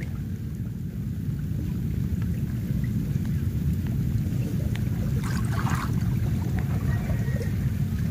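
Steady rain pours down in a dense, continuous hiss with low rumbling beneath it, constant and fairly loud throughout, with no voices.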